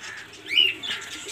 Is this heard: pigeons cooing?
yes